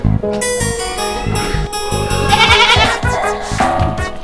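A goat bleats loudly and close by in a series of wavering, nasal cries that repeat over several seconds.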